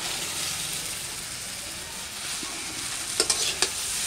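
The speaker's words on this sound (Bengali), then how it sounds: "সবজি দিয়ে চাউমিন ভালো করে মিশিয়ে নিয়েছি" Chow mein noodles and vegetables sizzle steadily in a large wok as they are stirred, and a few sharp scraping clatters of the utensil come near the end.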